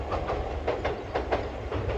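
A Toyama Regional Railway train crossing a river bridge near Toyama Station, its wheels knocking in a steady clickety-clack rhythm of repeated beats over a continuous rolling rumble that echoes across the area.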